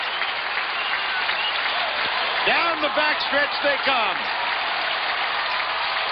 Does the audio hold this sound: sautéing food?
no